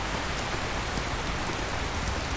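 Steady rain in the video game Skyrim with the Obsidian Weathers mod, a dense even hiss of rainfall on surfaces, constant and fairly loud with no voices.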